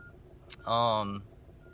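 A single electronic vehicle reversing beep rings out over faint background hum, short and moderately clear.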